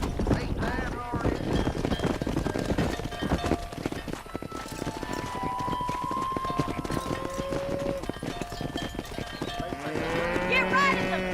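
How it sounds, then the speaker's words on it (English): Cattle herd in the Red Dead Redemption video game lowing repeatedly while hooves clip-clop steadily, with a louder moo near the end, all over a busy game soundscape and occasional talk. "Herd the cows down the road."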